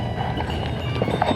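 Donkeys walk on Santorini's paths, their hooves clip-clopping in an uneven, close rhythm over a brief stretch, with faint background noise.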